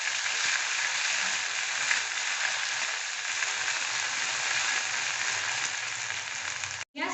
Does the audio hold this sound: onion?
yes